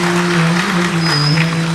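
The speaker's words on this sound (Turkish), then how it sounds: "Alkışlarla sahneye davet ediyorum." Loud, continuous audience applause fills the hall at the 2023 graduation ceremony of Darul Iman Academy, with a steady low hum running beneath the clapping throughout the short stretch.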